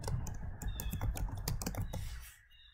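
Rapid computer keyboard typing with dense, irregular key clicks for about two seconds, close and clear, then tapering off into quiet near the end.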